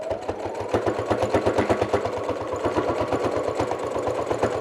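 A sewing machine stitching a seam in fabric, running in a fast, steady mechanical chatter of evenly spaced clicks close by, with no voices.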